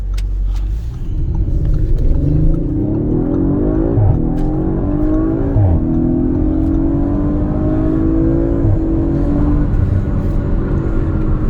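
A 2021 Audi RS5 Sportback Ascari Edition accelerates hard from inside the cabin, its engine a loud continuous rumble rising in pitch through several gear shifts with no talking.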